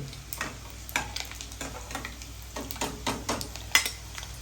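Eggs frying golden brown in a pan, with a steady soft sizzle and intermittent scraping stirs and clinks of a utensil against the pan, close up, no talking.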